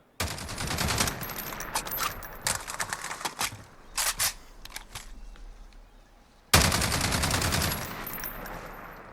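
L86 LSW light machine gun fired in Call of Duty Modern Warfare, sharp rapid automatic bursts, some short and broken up, then a long sustained burst after a brief pause, loud and close.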